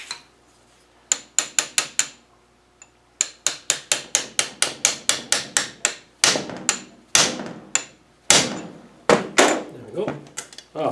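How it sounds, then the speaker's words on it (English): A hammer drives a flat-tipped chisel against the nut of a Rover 3500 steering box during a rebuild, sharp metallic blows landing in quick irregular bursts, close and loud, separated by brief pauses. "So what we'll do now is hammer up this nut using our chisel"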